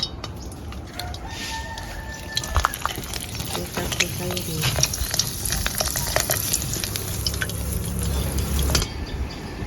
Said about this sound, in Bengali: একটা একটা করে কোপ্তাগুলো এবার তেলে ছেড়ে দেব